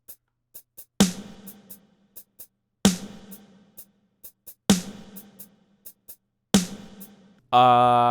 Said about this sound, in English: Starting off with the drums, we have the hi-hat and clap